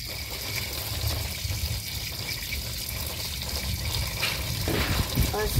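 Tap water running steadily into a sink or bowl to soak shrimp, a continuous close wash of splashing flow with a few faint clinks near the end.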